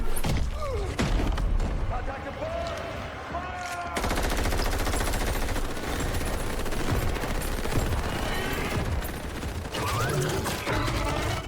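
Concentrated gunfire in a sci-fi alien invasion scene, rapid machine-gun bursts and fusillade crackle mixed with mechanical clatter and creature cries, loud and continuous with a brief dip before resuming.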